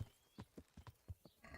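Horse hooves clip-clopping in the medieval video game Kingdom Come: Deliverance, a quiet, close sequence of about eight irregular hoof thuds over little more than a second, with no talk.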